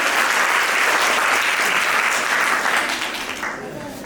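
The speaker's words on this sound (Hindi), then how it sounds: "चलो बड़ी जोरदार तालियां करें।" A college audience at a women's college event breaks into loud, dense applause that holds steady, then gradually fades away toward the end.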